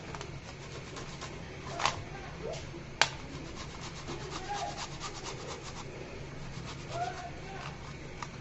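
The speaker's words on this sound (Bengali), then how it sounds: "এরকম একটা গ্রেড মেশিন দিয়ে আলুটাকে গ্রেড করে নিব, যেন কোনো লাম্পস না থাকে" A boiled potato is rubbed across a hand grater in repeated soft rasping strokes, close and quiet, with a couple of sharp knocks against the grater.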